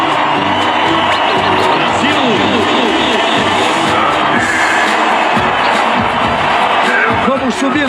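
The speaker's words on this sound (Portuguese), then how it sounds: "Vamos subir, sim, o som da torcida brasileira. Vamos subir o som dos aplausos." A loud stadium crowd of Brazilian fans cheers, whoops and applauds at the 2016 Olympics opening ceremony, a continuous dense roar with shouts rising throughout.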